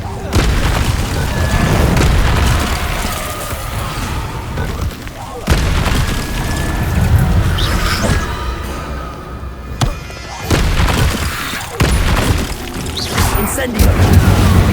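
Spells such as Incendio and Expelliarmus cast in Hogwarts Legacy, heard as a loud, steady barrage of booming magical blasts and crackling bursts that keep coming one after another, with voices partly beneath them.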